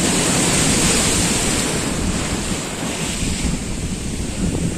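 Huge sea waves surge over a seawall at a beach during a full moon spring tide, a loud continuous roar of surf with heavy wind buffeting the microphone throughout.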